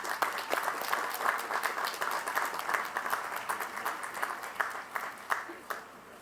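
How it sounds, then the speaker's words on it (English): Sustained applause fills a college of education commencement ceremony, a dense, steady wash of many hands clapping that thins out toward the end with a few scattered claps. "Please recognize her with your applause"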